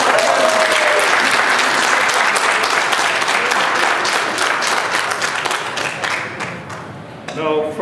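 Wedding guests applaud the newly married couple, a loud, dense burst of clapping that holds steady and then thins out, with a voice briefly heard at the close.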